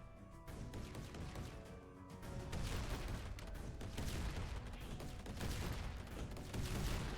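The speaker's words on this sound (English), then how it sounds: "Lots of explosions." A rapid barrage of explosions crackles and rumbles in Hollow Knight: Silksong, quieter at first and then swelling into a loud, continuous roar of overlapping blasts.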